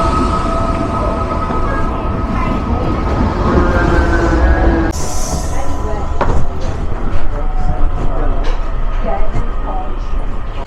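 Train running on rails around Dublin, a loud continuous rumble and rattle of carriages with shifting tones and a sharp change partway through, with some clatter and a voice talking intermittently over it.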